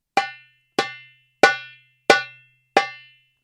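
Five evenly spaced tek strokes on a darbuka, each struck with a single finger phalanx, giving sharp, bright, ringing hits with quick decay and a faint low tone beneath, played alone with no talk.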